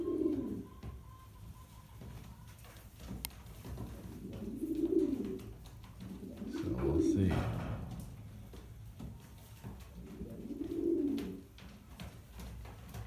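Breeding pigeons cooing in a loft, with several soft, low, rolling coos spaced a few seconds apart over quiet background noise.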